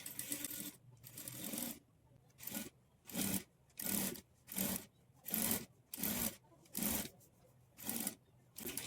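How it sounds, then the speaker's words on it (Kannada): A sewing machine stitches along a folded cloth hem beside thread piping, running in about a dozen short, evenly spaced bursts with brief pauses between, fairly close and alone without talk. "ಈ ಥರ ಇಟ್ಕೊಂಡು ಈಗ ಥ್ರೆಡ್ ಪಕ್ಕದಲ್ಲೇ ಸ್ಟಿಚ್ ಬೀಳೋ ಥರ ಸ್ಟಿಚ್ ಮಾಡ್ಕೊಳ್ತಾ ಬರಬೇಕು."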